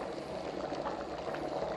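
Water at a rolling boil in an electric kettle, a steady bubbling and hissing rumble close by, without any talking.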